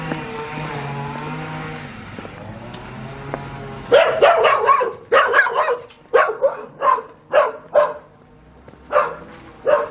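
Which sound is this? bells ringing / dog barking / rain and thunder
dog barking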